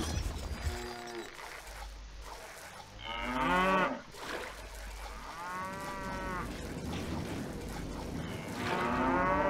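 Cattle moo repeatedly in the strategy game Stronghold Crusader: four or so drawn-out, harmonic lowing calls spaced a few seconds apart, clear and prominent over a low farm ambience.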